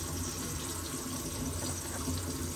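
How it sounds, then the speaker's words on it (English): Water runs steadily from a newly installed kitchen faucet on the cold side into the sink, a continuous close hiss with no pauses and no talking. "so we got water running there"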